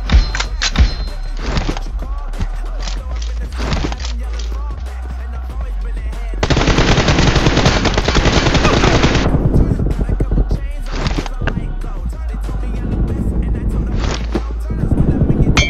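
M416 rifle gunfire in a video game crackles in rapid, loud bursts, including one long sustained volley in the middle and shorter repeated salvos around it, with the low game soundtrack and shouted callouts running underneath.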